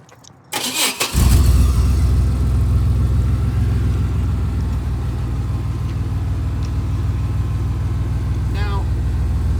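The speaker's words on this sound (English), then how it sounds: "Exhaust is on. First cold start of the night." A car engine cold-starts through stock manifolds and a cheap glass pack exhaust, cranking and firing up, then settling into a loud, deep, rumbling idle with a raspy exhaust tone, close by.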